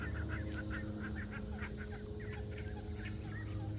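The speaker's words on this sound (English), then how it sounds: "we're gonna try to show these ducks this pond" A small group of ducks being walked toward a pond outdoors, giving soft, scattered quacks and chattering calls. The calls are faint and fairly distant over a low, steady outdoor background.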